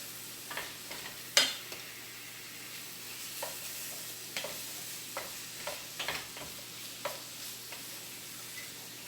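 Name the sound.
minced garlic sizzling as added to pan for curry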